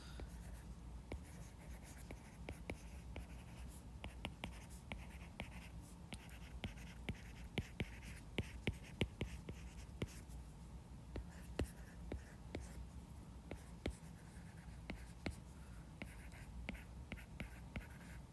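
Pen scratching across paper, a steady run of soft strokes and taps over about eighteen seconds, close and quiet, with no talking.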